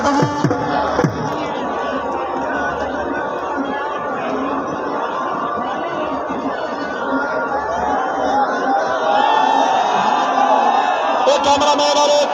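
Spectators at a kabaddi festival in Mankera, Bhakkar district, cheer and clap in a dense, sustained crowd roar with shouts and whoops, while an announcer's voice talks over the noise.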